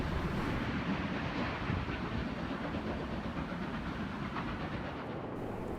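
Locomotive 4403 hauls a train in New South Wales, producing a continuous, loud rumble of wheels and engine, with wind buffeting the microphone throughout and no voices.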